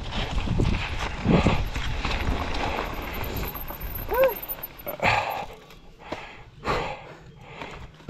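Hooves clip-clop along with a snort or two, with a dog barking and some rustling, heard fairly close with no one talking.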